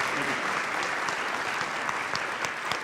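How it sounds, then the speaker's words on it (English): A conference audience at a real estate investor event claps for a speaker, a brief, steady burst of many hands at moderate volume with no voices standing out. "give a round of applause here"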